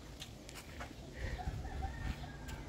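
A white turkey calls on a poultry farm in Dasmariñas, Cavite, Philippines, with a few short gobbling bursts at moderate distance over a quiet outdoor background.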